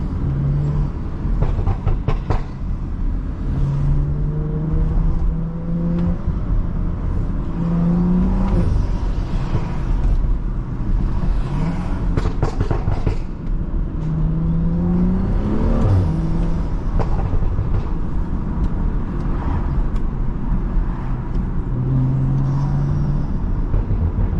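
Tuned Stage 2+ BMW driving city streets in Ottawa, its engine revving loudly and close throughout, with sharp exhaust pops and bangs crackling over a steady drone and a few low tonal swells.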